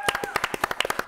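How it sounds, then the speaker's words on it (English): A small group claps for the winners of a game at a geek-themed stand-up event, about a dozen quick, distinct handclaps in a brief burst, with a faint voice underneath. "That was a big round of applause for our winners"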